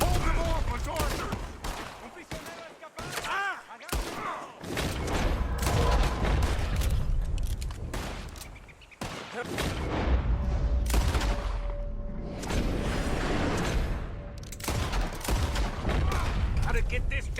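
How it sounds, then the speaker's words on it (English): Gunfire fills a battle in the video game Red Dead Redemption 2, set on the island of Guarma, with dense, near, continuous volleys and booms. Game voices and music can be heard beneath the shooting. "I don't think they're shooting at us."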